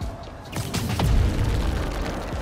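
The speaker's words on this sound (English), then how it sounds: "Never seen a gas line blow like that." A gas line explodes in Spider-Man: Miles Morales, a loud, heavy boom that swells into a deep rumbling roar with crackling bursts over it, close and sustained.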